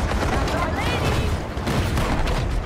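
Gunfire aimed at a shark in the video game Maneater: dense, continuous rattling shots layered over churning water noise, loud and steady throughout the short stretch.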